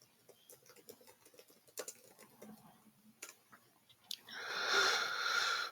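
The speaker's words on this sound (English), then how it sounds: "Sorry to type it in there." Quiet typing on a computer keyboard: scattered soft key taps and ticks in an irregular rhythm, then a rising hiss of background noise near the end.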